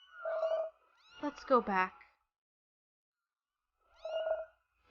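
Cats in the video game What Comes After give two distinct meows, one at the start and one near the end, with a person's voice talking in between.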